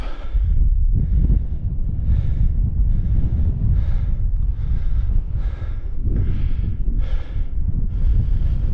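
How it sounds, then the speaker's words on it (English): Strong wind buffets the microphone in heavy, continuous gusts on an open hillside at a wild camp, a deep roaring rumble that pulses throughout with no other sounds. "you can hear me because it is quite windy"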